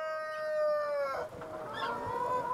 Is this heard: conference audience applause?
no